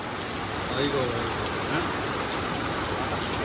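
Continuous rain pours down in an even, close hiss, with faint drips and no clear speech over it.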